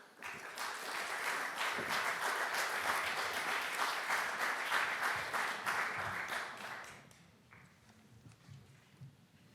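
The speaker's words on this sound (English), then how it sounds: "Could we please give a round of applause as they come to the stage?" A conference audience applauds as speakers come to the stage, steady dense clapping that holds for about seven seconds before thinning out into a quieter room.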